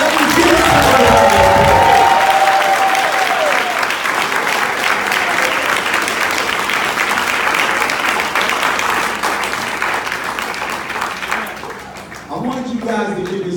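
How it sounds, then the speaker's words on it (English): A large crowd at a high school graduation ceremony applauds and cheers for the graduates, loud dense clapping with whoops filling the hall, a voice briefly heard at the start and end. "give all of the graduates a big round of applause"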